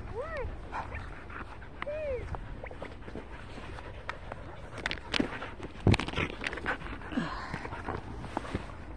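Dogs whimper with rising, whining cries and give short yips while playing with a new toy indoors. A person talks over them, and there is some shuffling movement.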